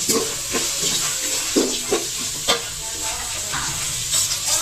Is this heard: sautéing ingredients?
yes